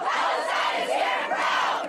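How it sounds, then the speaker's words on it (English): A crowd at a pro-Palestinian demonstration at Brooklyn College chants and shouts together in steady, loud rolling waves, with no single voice standing out. "In the Northeast, a pro-Palestinian demonstration at Brooklyn College."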